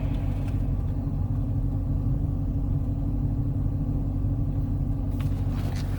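A 2015 Dodge Challenger rolls along a road with the air off, tire noise forming a steady, dense low rumble that stays even and unbroken throughout, with no voices.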